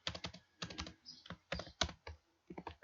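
Keystrokes on a computer keyboard while typing CSS code, coming in quick clustered bursts separated by short pauses, close and clear with no voices.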